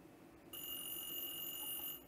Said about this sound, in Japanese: あ、電話鳴ってる。